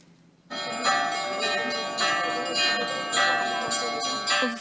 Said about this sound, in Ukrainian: дзвони Михайлівського собору у Білогородці на Київщині скликають людей на службу